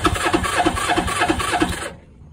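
Suzuki GS500 motorcycle engine running with a rapid, steady chug of firing pulses at close range, the carbureted bike leaking fuel, before it cuts off and falls quiet at the end.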